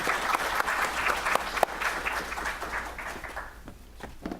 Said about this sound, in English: So just one big more round of applause for Larry as he walks up the stage.